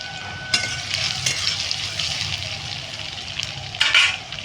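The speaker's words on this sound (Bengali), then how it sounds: "তারপরে দিয়ে দেবো এখানে কাঁচা লঙ্কাগুলো, যে চেরা ছিল পাকা লঙ্কাগুলো, ওইগুলো দিয়ে দেবো" Slit green chillies dropped into garlic frying in oil over a wood fire, giving a continuous close hissing sizzle with a few brief clatters of a spatula against the pan.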